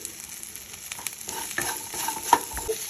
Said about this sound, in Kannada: ಇದನ್ನು ಮೆತ್ತಗಾಗೋವರೆಗೂ ಹುರ್ಕೊಳ್ಳೋಣ